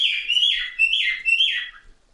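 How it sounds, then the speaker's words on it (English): Pet birds give three loud, close, rising-and-falling chirping calls in quick succession, bright and whistle-like, with no other sound around them. "Yeah, my birds are loud."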